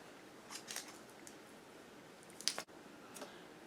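A hand tool cuts the top of a plant stem with a few quiet, sharp snips and clicks, close up in a very quiet room.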